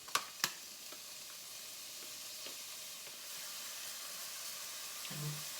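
Pancetta browning in a pan gives a steady, soft sizzle and hiss throughout, with a couple of faint clicks near the start and a low thump at the end.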